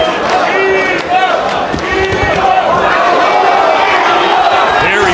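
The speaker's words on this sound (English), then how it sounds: "Very boisterous crowd here in Abu Dhabi." A boisterous crowd roars continuously at a boxing match in Abu Dhabi, a loud, dense wall of cheering and shouting with whistles rising over it throughout.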